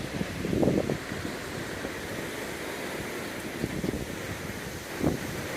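Strong storm wind gusts in the open near trees, a steady rushing roar with buffeting on the microphone and a couple of louder bursts, no voices.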